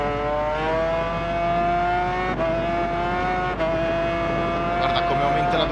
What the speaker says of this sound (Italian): Guarda come aumenta la velocità sta moto.